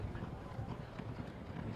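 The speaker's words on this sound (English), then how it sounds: "He's on a little paint horse." A small paint horse gallops during a polo match, its muffled, rapid hoofbeats rolling faintly at a distance under light wind.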